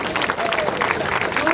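Applause and cheering from a crowd at a political rally, a dense, continuous wash of clapping and voices that lasts the whole short moment.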